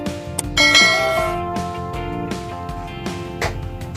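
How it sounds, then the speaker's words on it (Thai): A notification bell sound effect rings out in a bright run of chiming strikes, several clear dings ringing over one another with no voices. "กดกระดิ่งแจ้งเตือนให้กันด้วยครับ"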